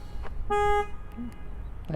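A 2023 Fiat Fastback Impetus gives one short, bright horn-like alarm chirp when locked, loud and close against low outdoor background noise.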